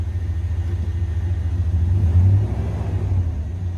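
A ranch vehicle's engine runs at a steady idle, a close, continuous low rumble that swells slightly in the middle before settling back.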